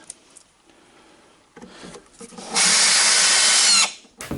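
A power drill drives screws into a wooden drawer without countersinking, a loud steady whirring burst of about a second, preceded by shorter quieter spins and handling noises.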